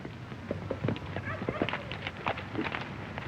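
Several horses' hooves clip-clop at a walk in an outdoor Western setting, a steady uneven patter of knocks at moderate distance, with low background noise and a hint of voices.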